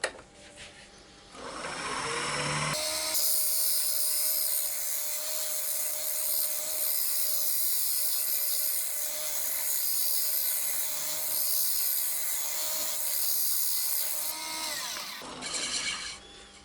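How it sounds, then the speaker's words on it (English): A round 10mm carbide cutter shaping wood in long, smooth sweeps, giving a continuous loud scraping hiss with a steady underlying tone. It starts after a brief quieter stretch, holds for about twelve seconds, then tapers off. "I'm just finishing off with a little 10mm carbide cutter, round carbide cutter."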